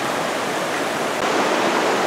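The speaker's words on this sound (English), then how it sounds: "So we're back down by the creek" Creek water flows steadily along a trail in Sweetwater Creek State Park, a constant broad rushing wash that stays close and loud for the whole stretch with no voices.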